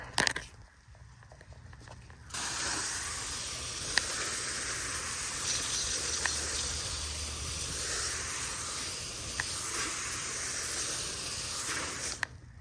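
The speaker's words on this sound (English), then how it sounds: "So let's give it a rinse off and see what it does here." A water spray rinsing wheel and tire cleaner off a car wheel and tire, a steady close hiss that starts abruptly after a quieter moment and runs continuously, with occasional small taps, then cuts off near the end.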